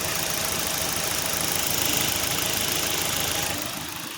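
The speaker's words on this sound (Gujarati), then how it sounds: "પેટ્રોલ એન્જિનનો અવાજ સાંભળો" Petrol engine of a four-wheeler running steadily nearby, a low rumbling hum with a faint knocking texture that eases off near the end.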